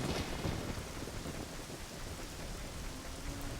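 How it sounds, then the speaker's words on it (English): Steady rain with a low thunder rumble in Zelda: Ocarina of Time, a continuous dense hiss of falling rain with deeper rolling undertones, loud and constant with no voices. "And the nice lovely rain. I really do enjoy the rain."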